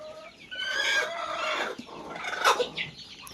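Several chickens sick with a cold and coryza cluck and squawk close by, overlapping calls rising and falling in a busy coop chorus.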